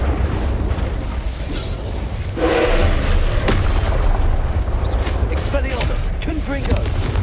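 An Incendio fire spell erupts in Hogwarts Legacy amid a busy fight, a loud burst swelling into a roaring, crackling flare over constant low rumble, with spoken voices and scattered battle sounds.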